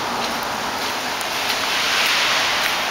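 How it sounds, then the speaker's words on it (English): Hail falling outside a shopping mall, a dense steady hiss of pelting ice with scattered faint ticks, loud and continuous throughout with no voices. "I can really hear the hail."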